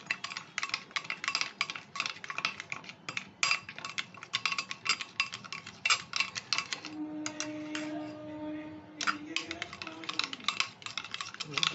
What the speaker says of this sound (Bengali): এটা দিয়ে দইটা ফেটিয়ে নিচ্ছি।